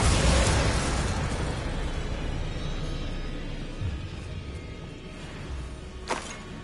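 A Bombarda blasting spell detonates in Hogwarts Legacy, a loud, broad explosive burst at the start that rumbles and fades into a long debris tail, with a sharper secondary crack near the end.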